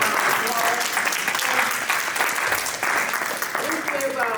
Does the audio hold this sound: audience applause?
yes